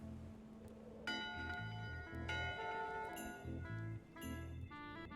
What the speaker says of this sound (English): 2 bells, LeChuck shouting.